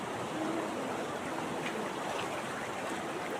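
Strong river current rushing steadily outdoors, a dense continuous roar of flowing water with no breaks and no voices.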